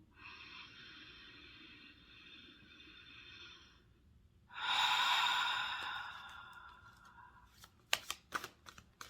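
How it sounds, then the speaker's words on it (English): A slow, soft deep inhale, then a longer and fuller exhale close to the microphone, during a tarot card reading, followed by a few sharp crackling taps like cards being handled. "Take a deep breath with me now"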